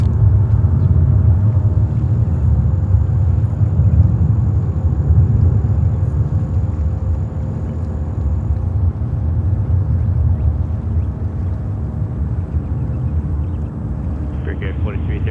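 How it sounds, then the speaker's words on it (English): A Boeing 777-200 airliner comes in to land on runway 31 right at JFK airport, making a steady, loud, low jet rumble that holds throughout with some wind noise. "we have a 777-200 coming in on 31 right"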